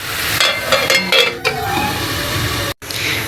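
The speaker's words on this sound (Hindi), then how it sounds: "ये दरमियानी आंच पे 2 मिनट पक रहा है।" Tomato puree and potatoes cook on medium heat for zeera aloo, a close sizzling hiss broken by spoon scrapes and clinks against the pan, with a brief cut near the end.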